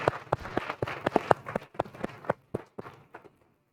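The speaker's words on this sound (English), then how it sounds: "So I'd like to have a round of applause for all of our elected officials on the panel and our guests." A town hall audience gives a round of applause for the elected officials on the panel and guests: sparse, uneven individual claps, fairly faint and thinning out toward the end.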